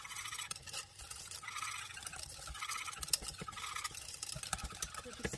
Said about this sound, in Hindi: अब इस टाइम पे हम जो शुगर है वो भी इसमें शामिल कर देंगे। और अच्छे से मिक्स कर लेंगे।